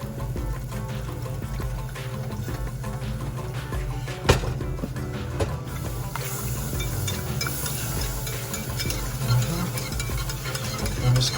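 Thick, creamy mac and cheese being stirred in a pot, a steady low churning with soft sticky squelches and a faint sizzle underneath, with one sharp knock near the middle.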